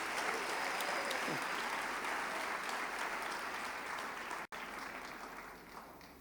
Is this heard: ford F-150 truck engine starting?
no